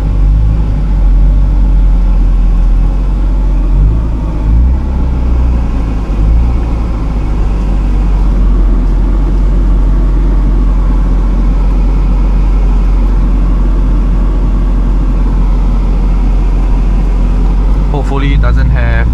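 A Mazda RX-7 FC3S fitted with a new short shifter drones steadily while driving, with loud low engine rumble and road noise filling the cabin throughout and a brief higher whine near the end.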